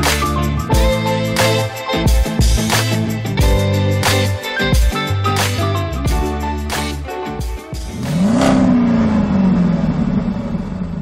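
A 2001 Mercedes ML320 with a 3.2-litre, 215-horsepower engine revs in repeated sharp bursts that rise and fall close by, then settles into a sustained, sweeping rev at the end.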